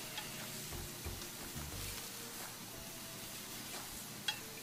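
Ribs searing over an open fire, a steady soft sizzle and crackle with low thumps and a faint clink, no one speaking.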